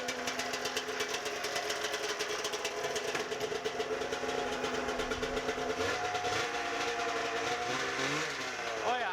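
An Arctic Cat snowmobile engine running and idling after its first start while smoking heavily, a steady faint mechanical drone with a slight pitch shift near the end and no speech over it.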